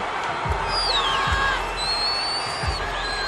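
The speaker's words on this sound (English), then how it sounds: "the crowd is alive" A cricket stadium crowd under lights roars in a broad, sustained wash of cheering and whoops, loud and close, with no pause across the moment.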